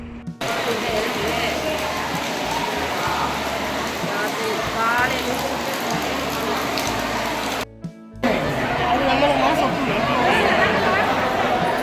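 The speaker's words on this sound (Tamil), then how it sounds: "எல்லா இடத்துலையுமே மழை பெய்யுது" Steady rain pours over a crowded temple festival at Thirukoshtiyur during the Masi float festival, a dense, continuous wash of noise with murmuring crowd voices throughout and a brief dropout near the end.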